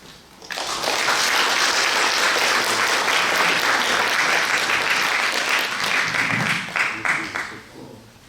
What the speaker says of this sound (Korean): 우리 감사한 박수로 받도록 할게요